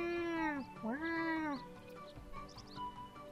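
A cat meows in the Suikoden III video game, two drawn-out, rising-and-falling meows close up in quick succession, followed by softer, fainter cries and chirps.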